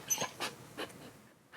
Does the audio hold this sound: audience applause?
no